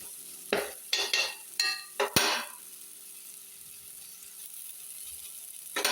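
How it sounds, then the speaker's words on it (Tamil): Chili powder sautéing in oil for a Tamil fish curry: several close scraping stirs of a spoon against the pan in quick bursts, then a low steady sizzle carrying on alone. "போட்டு நல்லா எண்ணெயிலே வதக்கி விடுவோம்"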